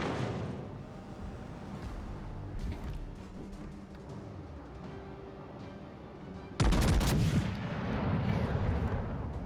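Battleship main guns fire in World of Warships Legends aboard the premium battleship W Georgia: a sudden heavy blast lands late, followed by a loud rumbling decay over a continuous low battle din.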